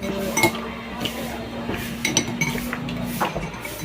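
Spoons clink against dishes as two people eat at Ronglibazar market in Sikkim, with a series of light, bright metallic taps and scrapes at irregular intervals, close by, over a faint background hum.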